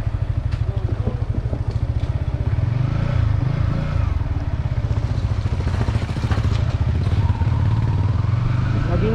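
Yamaha XSR 155 motorcycle riding off road in Solano, Nueva Vizcaya, its engine a loud, close, steady pulsing thrum with rising and falling revs, rattles and rough-terrain clatter throughout.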